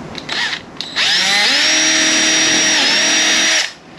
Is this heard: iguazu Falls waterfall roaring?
no